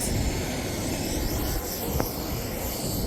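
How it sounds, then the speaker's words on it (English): A propeller aircraft at Lalibela Airport in Ethiopia drones continuously with a broad, steady engine roar close by, filling the whole stretch without pause and with no voices over it. "And our propeller plane behind."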